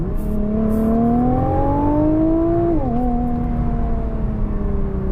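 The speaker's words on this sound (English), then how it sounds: "the GTR still sounds like a proper supercar when you want it to, like now." A 2017 Nissan GT-R engine and exhaust with an electronic baffle, revving loud and close with a steadily rising tone, then a brief dip as it shifts and carries on pulling, with no talking.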